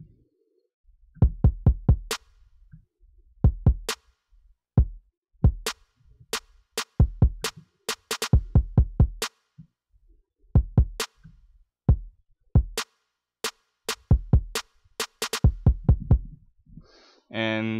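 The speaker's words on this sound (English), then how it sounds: "And this is the kicks." Punchy electronic kick drum samples from an electro trap beat hit in short, uneven clusters of repeated thumps, loud and dry against near silence, with a brief higher burst at the very end.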